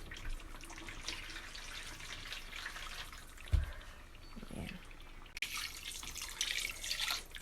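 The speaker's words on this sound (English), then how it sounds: "I'm going to add my water, but not a lot, just some of it." A small amount of water is poured into a pot of chicken, beef and shrimp stew with potatoes, a soft splashing trickle that comes in brief bursts among faint kitchen noise.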